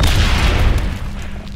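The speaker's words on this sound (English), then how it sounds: "Grenade!" A grenade blast in Aliens: Dark Descent, a heavy deep boom that rumbles and decays over about a second and a half, loud and close.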